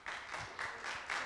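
Audience applause at a public accountability hearing, faint bursts of hand clapping arriving in a loose pulsing rhythm, thin and distant.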